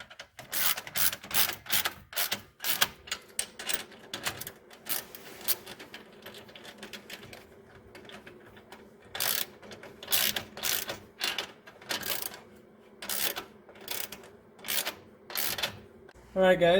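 Ratchet wrench tightening a clamp between a turbo downpipe and flex pipe on a car: repeated quick clicking strokes in rhythmic bursts, close up, with short pauses between runs.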